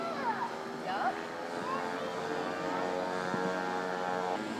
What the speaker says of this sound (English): Now the ME-109 is gear down and the flaps. This will be for the slow flyby.